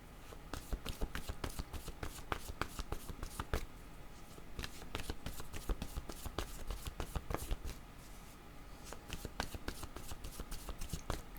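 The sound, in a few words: shuffling tarot cards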